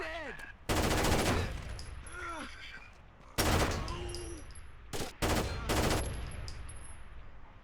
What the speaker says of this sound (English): Be aware of the machine gun.